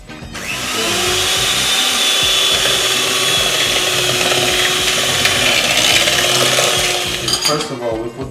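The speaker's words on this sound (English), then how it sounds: "I'm taking a mixer, which is kind of necessity for this show." Electric hand mixer beating cake batter for a zebra cake, a steady high-pitched motor whine running for several seconds with a rattling metallic edge, starting up and then stopping near the end.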